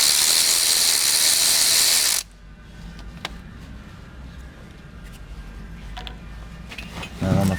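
Ratchet clicking on an 8 mm bolt head holding the cam sensor on a Mack E-tech engine, loud steady ratcheting for about two seconds, then a quieter stretch of faint metallic taps and handling noise close by.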